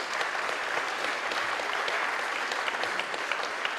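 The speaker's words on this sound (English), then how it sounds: "Give them a big round of applause." An audience claps steadily through a Christmas classical concert, a dense, even wash of applause heard at moderate distance without anyone speaking.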